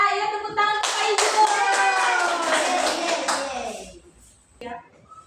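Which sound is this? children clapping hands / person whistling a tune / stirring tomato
children clapping hands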